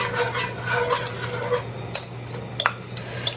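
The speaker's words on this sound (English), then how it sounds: "take my whisk and just pull off any of the extra cream cheese and then whisk the sauce right in there" A whisk stirs cream cheese into Alfredo sauce in a pan, making soft wet swishing and scraping with a few light metallic taps, close and quiet over a low steady hum.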